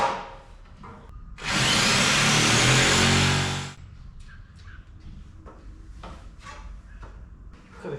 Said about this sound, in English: I'm going to get this side cut out with my trusty jigsaw